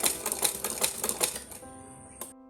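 A sewing machine stitches skirt fabric in a rapid rhythmic run of needle strokes for about a second and a half, then slows and stops, leaving a faint motor hum and a final click.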